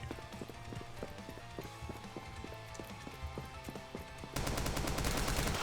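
Gunfire in the pixel-art video game Rise of the Gorecats, heard as rapid repeated shots with a steady rhythmic clatter that bursts louder and denser near the end, alongside game music and effects.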